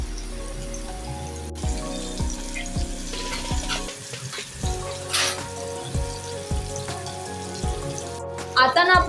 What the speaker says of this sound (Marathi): आता ही दोन्ही बाजूने आपल्याला व्यवस्थित शॅलो फ्राय करून घ्यायची आहे क्रिस्पी अशी झाली पाहिजे